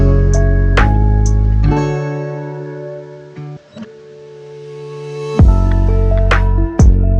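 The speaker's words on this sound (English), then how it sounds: "I added this riser and I reversed the guitar" A produced pop track, with a reversed guitar swelling backward and a rising riser. The music thins into a sustained build around the middle, then full tonal hits return near the end, loud and with no voices.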